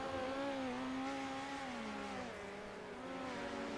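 Midget race cars roar through the turns at a dirt oval, engines droning loud and steady with pitch that rises and falls as they circle, one continuous near rumble with no talk.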